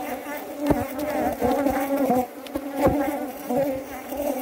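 Honeybees buzzing loudly and continuously in an open hive, a dense steady drone with layered wing tones swelling and fading as bees move close by, with no talk over it.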